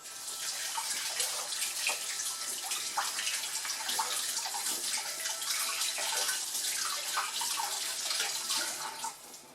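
Running tap water splashing over a hand being rinsed at a sink, a steady close hiss of flowing water that lasts the whole time, with no voices over it.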